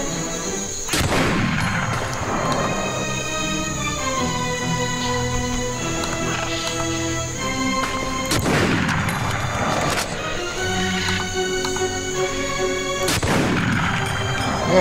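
Sniper rifle shots ring out in The Punisher video game: a handful of loud, booming reports spaced irregularly over a continuous layered game soundtrack.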